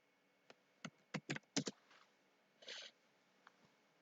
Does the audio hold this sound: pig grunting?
no